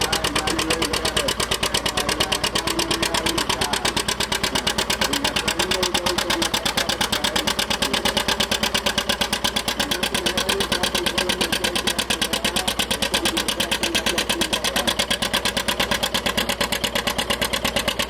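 Vintage four-cylinder uphill tractor engine idling at a machinery rally, a steady fast mechanical putter with even, rapid firing pulses held throughout at moderate volume.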